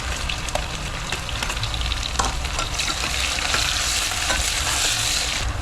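Onions fry in hot oil in a pan with green chillies and garlic, a steady dense sizzle with crackling pops throughout and no talk.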